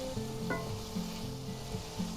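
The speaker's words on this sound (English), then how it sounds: "I just love the smell of green and red bell peppers and onions with garlic," Green and red bell peppers, onions and garlic fry in a pan with a steady, even sizzle, and faint tonal hums sit underneath it without any talk.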